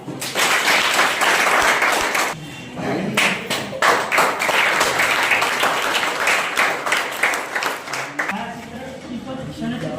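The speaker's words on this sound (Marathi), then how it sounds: "टाळ्या वाजवा." A school farewell-ceremony audience bursts into loud, dense clapping that dips briefly, resumes with sharp claps, then fades toward the end, with voices mixed in among the crowd.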